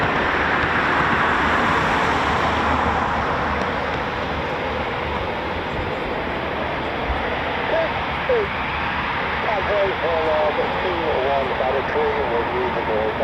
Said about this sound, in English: we got 1, 2 Typhoons taxiing now for departure